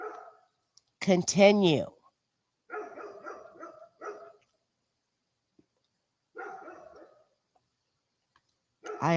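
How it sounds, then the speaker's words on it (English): A neighbor's dog barks in the background in short, scattered bursts during a remote courtroom livestream, while a person speaks nearby. "I apologize for my neighbor's dog in the background."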